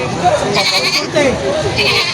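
Goats bleat at a livestock market where animals are weighed and priced, two or three close wavering calls heard over a crowd of voices talking.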